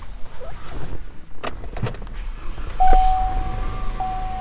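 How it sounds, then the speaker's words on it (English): A power moonroof on a 2016 Buick Regal operates, with a few clicks and knocks followed by a steady electric motor whine running inside the cabin, close and moderately loud. "power moonroof."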